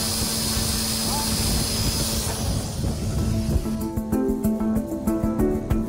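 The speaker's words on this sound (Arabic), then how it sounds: "في مهبط صغير في شمال البلاد تتعلم مجموعة من الجنود الأرجنتينيين إلى دفع طائرة بدون طيار للإقلاع" Military drone taking off from a small airstrip in northern Argentina, its engine droning steadily and rising in pitch as it is pushed off, close and loud, with people talking over it.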